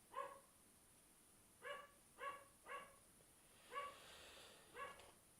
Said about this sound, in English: That's just my dog barking out in the yard.